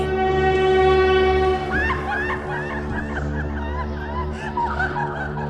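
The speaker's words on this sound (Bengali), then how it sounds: "তার স্ক্রিনে শেষ রেকর্ডিং, ট্রেনের হুইসেলের সাথে এক মেয়ের হাসি" A train whistle's sustained, layered tone blends with a girl's eerie laughter in a horror story effect. The steady chord fades as giggling phrases rise and fall over a continuous low rumble.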